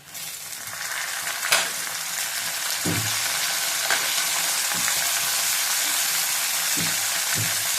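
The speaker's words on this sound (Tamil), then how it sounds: "பூண்டுடைய அந்த பச்சை வாசனை போற வரைக்கும் நல்லா வதக்குங்க அது கூடயே நம்ம கழுவி வச்சிருக்க பொடி வெங்காயம்" Garlic and finely chopped onion sauté in a pan with a steady, bright sizzle, broken by several soft stirring scrapes, close and alone.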